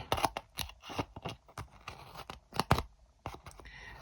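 Repeated snips of scissors cutting glued paper, irregular crisp clicks and crunches at close range, fairly quiet with no talking.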